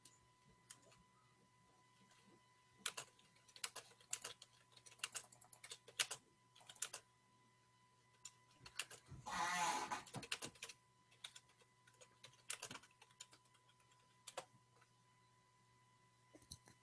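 Steady computer keyboard typing, quick irregular clicks in bursts with short pauses, close and fairly quiet, plus a louder rustling burst midway.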